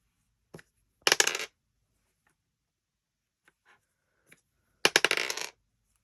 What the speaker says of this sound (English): I'm going to roll the dice to figure it out.